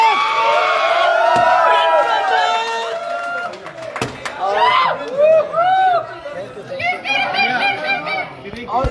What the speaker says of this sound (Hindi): ताली बजा दो सब लोग